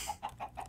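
Chickens in the Minecraft game with the Pamplemousse resource pack give four quick, evenly spaced clucks at a soft, steady level.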